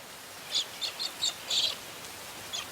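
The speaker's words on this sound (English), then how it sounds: "And cockatiels celebrate with a rain dance." Short bright cockatiel calls repeat in bursts, several chirps spaced over a few seconds, above a soft steady hiss of falling rain.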